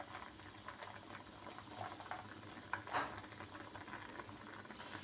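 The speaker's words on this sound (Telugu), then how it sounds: "ఆయిల్ కొంచెం హీట్ అయ్యాక ఇందులోకి ఆవాలు" Mustard seeds crackle and patter in a spoonful of hot oil while tempering drumstick sambar. The sputtering is soft and faint, with a few sharper pops over a quiet background.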